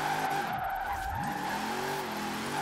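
A custom drift van in Forza Horizon 4 slides with a long, loud tire squeal over a steady engine drone, the pitch bending and swooping as it skids.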